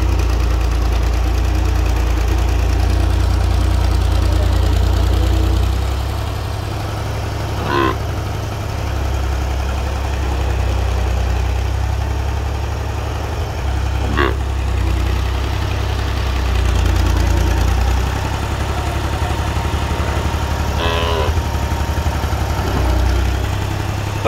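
A tractor hauling a load of dung chugs steadily for the whole stretch, a loud low engine drone close by with faint metallic squeaks and clanks now and then.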